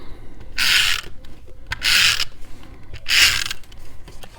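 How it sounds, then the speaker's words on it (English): A bone folder creases and burnishes card paper in three firm, close rubbing strokes, each about half a second long with short pauses between. "Put our bone folder and crease and burnish it."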